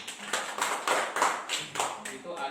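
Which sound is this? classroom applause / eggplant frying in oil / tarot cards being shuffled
classroom applause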